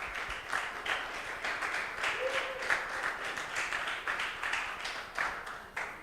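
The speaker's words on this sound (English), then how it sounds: "I want you guys to clap with a very thick, resounding applause" An audience at a sustainability launch event applauds continuously, a dense, moderately loud wash of many hands clapping for the full stretch with no talk over it.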